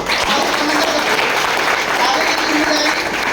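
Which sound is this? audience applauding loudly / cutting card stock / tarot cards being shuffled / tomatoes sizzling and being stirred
audience applauding loudly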